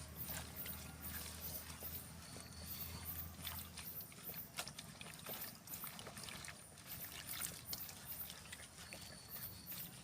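Leafy greens being washed by hand in water, with soft, steady splashing and trickling throughout at a low level, close by.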